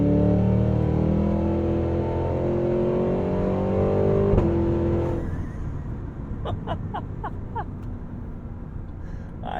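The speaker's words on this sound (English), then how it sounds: "the truck won't stop howling" A Cadillac Escalade V with its supercharged V8 engine howls loudly under hard acceleration, heard from inside the cabin. The engine roar holds strong, then drops off sharply into a quieter idle with a few clicks and pops.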